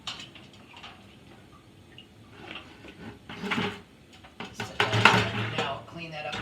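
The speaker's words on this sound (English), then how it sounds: "So we're going to pull the immersion chiller out, and then I'm going to give it a little whirlpool." Metal clanks and knocks sound close up as an immersion chiller is pulled out of a homebrew kettle of wort, then sloshing and scraping follow as the wort is stirred by hand into a whirlpool.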